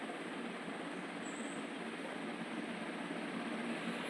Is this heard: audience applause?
no